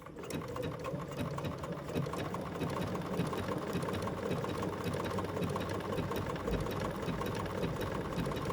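A sewing machine runs a triple straight stitch at a long stitch length, a steady, close mechanical whirr with rapid fine ticking that holds evenly throughout without pause.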